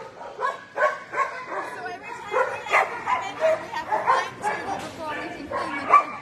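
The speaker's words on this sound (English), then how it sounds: "Look at that little dog." A small dog buried under covers in a kennel lets out repeated yips, short barks and whimpers in an uneven rhythm, close by, with people's voices mixed in.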